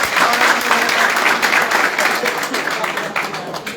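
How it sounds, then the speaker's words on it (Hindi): Loud, dense applause from a crowd welcoming a new member at a BJP party event, steady clapping sustained throughout with speech mixed in. "मैं जोरदार तालियों से इनका यहाँ"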